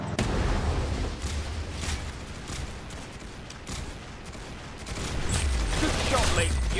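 Gunfire from a shooter video game, with repeated sharp cracks and bursts scattered across the moment, some in quick clusters, over a rumbling background that swells near the end; a voice talks briefly in between.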